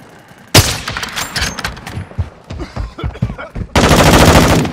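Bursts of gunfire in the video game Warzone 2.0, a sharp shot followed by scattered rapid rounds and a sustained loud volley at the end, close and forceful.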